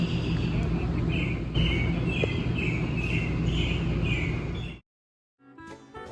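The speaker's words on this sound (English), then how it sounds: "listen to the birds" Birds chirp and sing repeatedly over a constant rushing background hum at a campground in Hot Springs, Arkansas, then the sound cuts out abruptly before a brief return.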